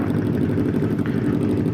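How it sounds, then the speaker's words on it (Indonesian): Motorcycle engine idling as it warms up among a group of riders, a loud steady low rumble with an even pulsing beat. "manasin motor"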